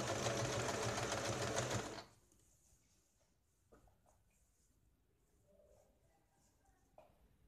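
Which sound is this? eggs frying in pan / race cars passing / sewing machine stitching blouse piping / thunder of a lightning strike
sewing machine stitching blouse piping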